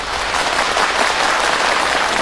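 Applause from a theatre audience at a Yue opera gala, steady and dense clapping that fills the whole stretch at full loudness with no talk over it.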